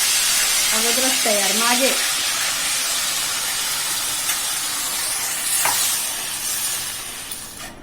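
Grated cucumber (tavsa) dropped into hot ghee for Dhondas gives a steady, loud sizzle and hiss throughout. Someone speaks briefly over it early on.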